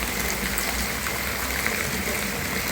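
Heavy cloudburst rain pouring steadily near a canal, a dense continuous rushing wash of water, loud and unbroken throughout with no pauses.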